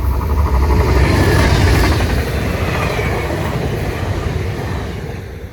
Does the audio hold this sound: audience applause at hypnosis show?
no